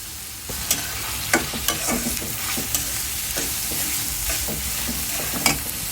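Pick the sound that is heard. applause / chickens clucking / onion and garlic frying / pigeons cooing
onion and garlic frying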